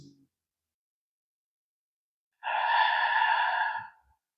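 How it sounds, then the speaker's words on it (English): A single long, deep exhale during an evening yoga session, close and clear, breathy and steady for about a second and a half before fading, set in near silence. "Two more breaths."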